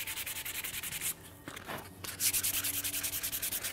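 Sandpaper rubs in steady repeated strokes over a recurve bow backed with snake skin, a close scratchy rhythm that pauses briefly midway before resuming faster.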